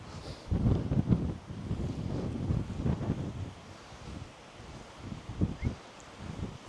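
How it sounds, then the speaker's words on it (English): Strong gusty wind buffets a handheld camera microphone on a coastal path at Filey, producing loud low rumbling blasts that swell and ease over several seconds. "this wind's nearly blowing my camera out my hand, it's so strong"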